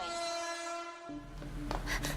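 A subway train pulls into Shibuya in Persona 5, its steady whistle-like tone giving way to a low rumble and clattering rail noise as the cars roll in close by.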